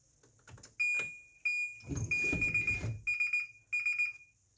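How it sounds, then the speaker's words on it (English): Repeated electronic beeping from the obstruction alarm on the rear hatch of a 2006 Nissan Armada, loud and close, sounding in bursts of tones after a brief mechanical clunk. "it has a little alarm that says that something's obstructing its way"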